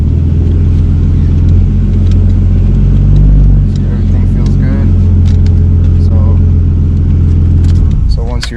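A Nissan Skyline R32 engine runs at a loud, steady idle that rumbles low and close, while someone talks over it.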